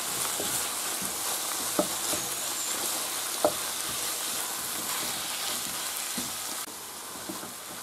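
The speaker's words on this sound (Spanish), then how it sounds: "ahora echamos la merluza. Y la tenemos que saltear un poquito" Hake sautéing in a frying pan, with a steady broad sizzle and hiss running throughout, a few light clinks or stirring taps on top, and no voices.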